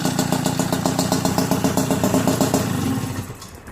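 A small Peugeot 70cc moped engine idles close by with a fast, steady putter, then tapers off slightly near the end.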